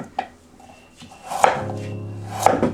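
A kitchen knife cutting vegetables into 2.5 cm strips on a cutting board for a fish stew: a handful of distinct, close chopping knocks, some followed by a brief ringing tone.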